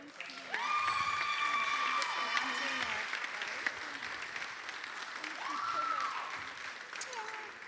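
Pageant audience applause and cheering at the Miss Virginia Volunteer finals, fairly faint clapping beneath sustained tonal music with swelling notes, heard at a distance in a large hall.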